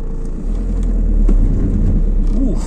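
Vehicle wheels spinning and slipping on a slick surface while the engine revs hard, a loud low rumbling drone that swells after a brief dip and holds steady.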